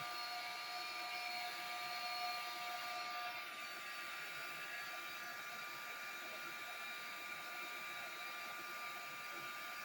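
A heat gun blows on a metal skinny tumbler to soften the adhesive of a rhinestone sheet, giving a steady, loud whirring hiss with a faint tonal whine that runs unbroken from start to finish.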